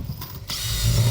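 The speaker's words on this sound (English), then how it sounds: "we'll get those last rivets in there" Rivet tool fastening insulated metal clad panels on a garden room, a short mechanical ratcheting crunch followed by a rising hiss-like press, close and brief, alone without speech.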